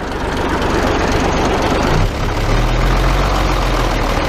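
A MAN D2866 truck diesel engine runs steadily at idle to build air pressure, a loud continuous low rumble with a brief dip partway through before settling back.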